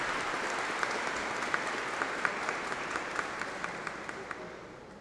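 An audience claps for award recipients at a formal session honoring Brazilian World War II veterans, a steady, fairly distant round of applause with a few louder individual claps, fading slightly toward the end.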